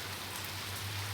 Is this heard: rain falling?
yes